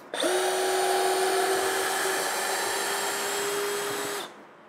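A Ryobi 18V brushless compact right angle drill backs a 4.5-inch lag screw out of wood, whining at a steady high pitch for about four seconds, close and loud, before stopping abruptly.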